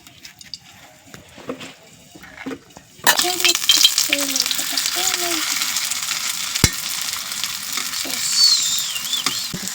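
Egg paratha frying in oil in a pan, quiet for a few seconds, then a bright, steady sizzle that carries on to the end, with a few faint utensil clinks.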